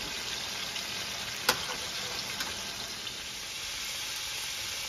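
Pork chops frying in a pan on a home stove: steady, faint broadband sizzling throughout, with one brief clink near the start.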